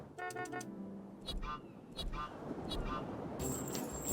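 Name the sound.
car horn honking in the video game What the Car?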